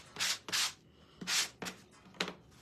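A sanding block rubs back and forth in four distinct close strokes, each a loud rasping scrape with short pauses between, during a puzzle piece photo collage project.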